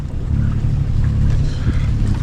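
A sailboat motors out of the bay of Villefranche-sur-Mer under engine power, a loud steady low drone with wind and water rushing over it and no voices.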